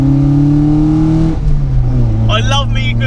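A Ford Escort RS1600i running on bike carburettors revs loudly up close, its engine note climbing and then dropping back, as a voice speaks briefly near the end.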